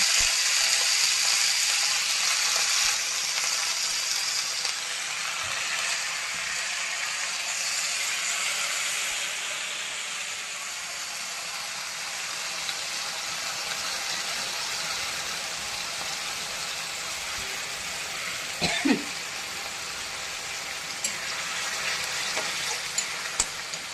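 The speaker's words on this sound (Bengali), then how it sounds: "রসুন হয়ে এসছে, এবার শাক এর মধ্যে আমি দিয়ে দেবো" Greens with garlic frying in a pan, giving a broad, continuous hiss that is loudest at first and then settles to a steadier sizzle, with a couple of sharp clacks near the end.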